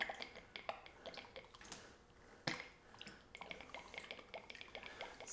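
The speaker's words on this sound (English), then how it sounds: "Seems to be splashing quite a bit." Fluid splashing and dripping while an Indian Scout motorcycle shock is drained during a spring and cartridge swap: faint, irregular wet spatters and drips close by, with one sharper splash near the middle, no talking.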